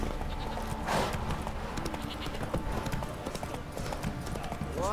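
Roach, a horse in The Witcher 3: Wild Hunt, trots with a quick, even clip-clop of hooves, steady and fairly close, while voices speak over the game background.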